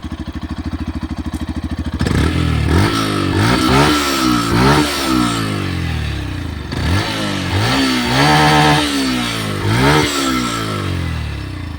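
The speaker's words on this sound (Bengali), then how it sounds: "এবার এক্সজস্টের সাউন্ডটা শুনে নেব।" A 149cc Yamaha FZS-V4 motorcycle idles briefly, then its exhaust roars through a series of sharp throttle blips and longer revs rising and falling in pitch, loud and close with no talk.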